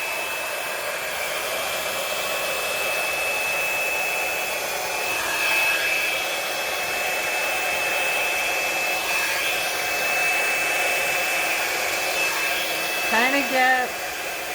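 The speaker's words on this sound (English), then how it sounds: "I'm going to turn my hairdryer around, hold it at an angle." A hair dryer blows with a steady whine and airy hum, running continuously nearby; a few faint handling sounds near the end.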